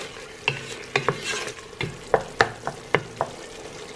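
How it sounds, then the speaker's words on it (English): Tomato-based masala frying in a pan for turnip and spinach saag, with a spoon scraping and knocking against the pan in about ten sharp, irregular strokes over a low, steady sizzle. "just cook the masala until it's like, the tomatoes have got softened and everything"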